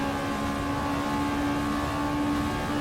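Modded Honda Civic engine in the racing game Assetto Corsa, a steady, loud droning hum with a strong low tone held throughout, no voices.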